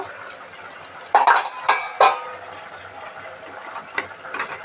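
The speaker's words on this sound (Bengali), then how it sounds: "কিছুক্ষণ হয়ে গেল ঢাকাটা খুলে আমি একবার নেড়ে দেব" A metal lid lifts off a pot of vegetarian chickpea ghugni with a few sharp clanks, then a spoon scrapes and stirs through the thick curry, close by and moderately loud.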